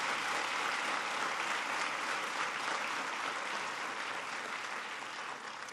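Parents and audience at an education event applaud together in a steady, full round of clapping that continues evenly throughout and thins slightly toward the end, with no voices heard.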